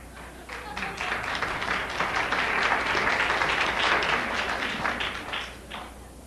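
A lecture audience claps together in a steady, dense wash that swells and then eases slightly, sustained across the whole stretch at a moderate distance.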